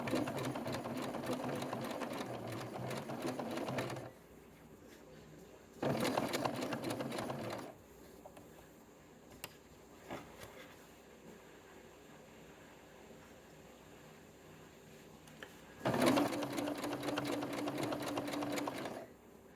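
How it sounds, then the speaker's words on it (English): A home sewing machine stitches fabric for a Simplicity 1446 pattern in three separate bursts, loud and close, with quiet handling gaps between them. "So set the needle. Take a couple of stitches forward, take a couple of stitches back."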